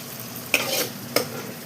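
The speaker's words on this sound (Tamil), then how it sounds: "இப்போது இந்த மேரினேட் பண்ண மட்டனை வந்து இதில் சேர்த்துக்கிறோம்." Marinated mutton goes into a hot pan for Kongunadu white biryani, sending up a steady sizzle broken by two sharp clatters of stirring.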